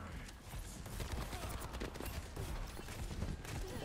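Gunfire in the Overwatch 2 shooter game, quiet rapid bursts of shots crackling over a busy, muffled game soundscape.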